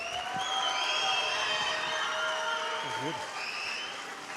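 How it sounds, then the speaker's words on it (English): A crowd at a FIRST Robotics team induction ceremony claps and cheers in a steady, dense wash of applause, with voices mixed in. "Give them a lot of round of applause, a lot of noise."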